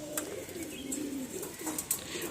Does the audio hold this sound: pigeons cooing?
yes